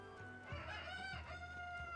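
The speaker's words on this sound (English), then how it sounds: "That's why there's so many chickens in town." Chickens in a town in The Legend of Zelda: Tears of the Kingdom cluck and crow, a rooster-like call carrying over a soft game backdrop, fairly close and steady, with no talk.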